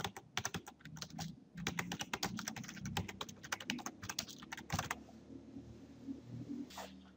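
Rapid clattering keystrokes on a computer keyboard, a dense burst of typing for about five seconds, then a pause and a single sharp key press like an Enter, close and clear with no talk.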